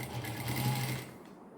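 Sewing machine running steadily as it stitches a skirt hem, a continuous close motor hum and needle whir that slows and stops near the end.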